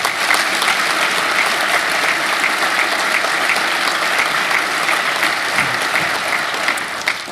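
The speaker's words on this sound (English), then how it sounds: "let's give yourselves a round of applause" Loud, dense applause from a large crowd at a conference on emergency preparedness, steady clapping that continues throughout and fades slightly at the end.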